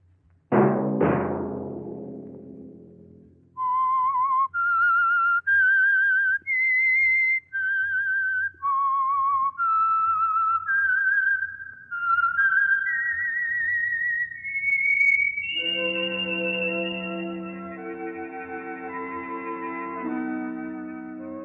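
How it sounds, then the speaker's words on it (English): A signature whistled melody for the radio program The Whistler opens with a sharp struck tone, then runs as a clear, echoing sequence of separate notes and ends on a sustained orchestral chord. "Let that whistle be your signal for the Signal Oil program, The Whistler"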